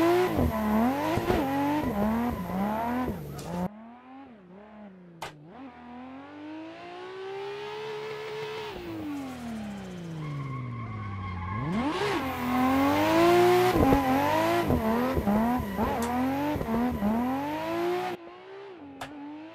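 A Skyline's engine in Assetto Corsa revs hard while drifting a tight corner, rising and falling through gear changes with sharp shifts and screeching tires, loud and continuous throughout.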